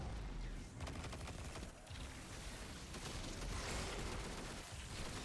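Sustained machine gun fire in Destiny 2, a dense continuous rattle of rapid shots filling the clip with a few short dips, loud and close with game effects mixed in.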